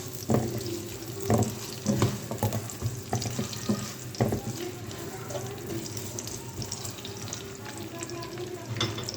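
Sliced onions fry in a pan to make pumpkin sabzi: a soft, steady sizzle broken by several louder clattering stirs and scrapes early on, with no talking.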